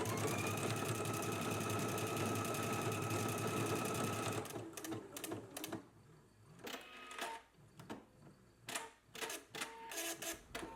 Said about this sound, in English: I was just testing out the round eyelet stitch that is on my sewing machine